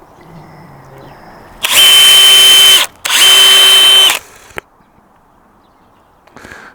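A power drill drives screws into the wooden frame of a fish tank stand in two loud, close bursts of steady whirring with a brief pause between them, then falls quiet.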